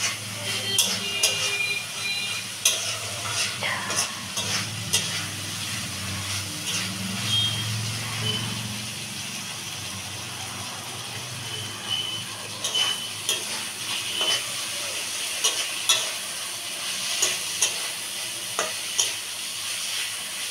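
Dal and eggplant being sautéed in a pan give a steady sizzle with scraping stir strokes and clinks of a spoon, close by and moderately loud, with no talk.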